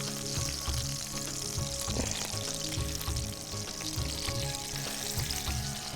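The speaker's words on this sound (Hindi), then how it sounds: "जब तक यहाँ पे ये फ्राई होते हैं" Food fries in a pan with a constant, soft crackling sizzle that holds steady throughout, with a faint low hum beneath and no voices.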